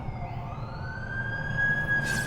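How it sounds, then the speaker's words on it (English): An ambulance siren wails on a city street, a single rising tone that swells and grows louder as the vehicle approaches. "That's the ambulance I called."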